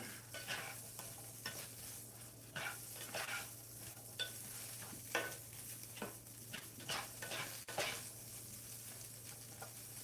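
Potatoes fry in a pan with a continuous quiet sizzle, broken by repeated stirring scrapes and clinks of a utensil against the pan, with no one talking.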